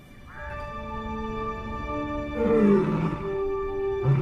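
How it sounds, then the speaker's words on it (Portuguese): A lioness roars to call the rest of her pride in the desert, a series of deep, drawn-out roars that swell and fade, loud and close with no talk over them. "O rugido dela é um convite."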